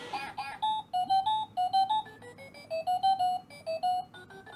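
A cheap LED projector alarm clock plays its alarm melody, a bright electronic tune of short repeated beeping notes in quick phrases, close and clear with no talking.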